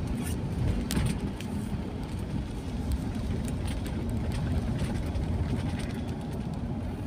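A vehicle speeds along a city road near Rockwell on JP Rizal in Makati, its steady engine and road rumble filling the cabin at an even, continuous level with no break.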